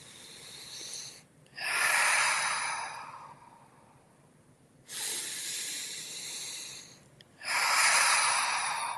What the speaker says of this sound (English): Just take a few deep breaths